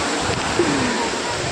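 A monsoon waterfall at Malshej Ghat roars as a loud, unbroken rush of water, steady and enveloping throughout the short stretch.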